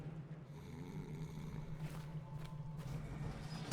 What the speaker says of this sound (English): Now no one can hear you snore.